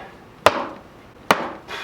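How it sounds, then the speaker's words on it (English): A regular common roofer's hammer strikes a test panel hard: two loud, sharp bangs roughly a second apart, each with a short ringing decay and quiet between, no voices. "Let's go up to like a little just regular roofer's hammer, a regular common hammer. Give it a really solid bang."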